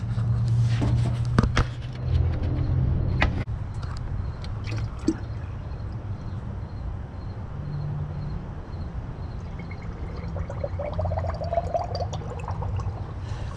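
Antifreeze being poured into a dry four-core car radiator: a steady liquid pour with gurgling and a few sharp splashes and knocks early on, close and moderately loud against a constant background hiss.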